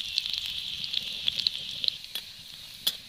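Chopped garlic frying in hot oil for a dahi tadka, a steady close sizzle with scattered small pops and crackles.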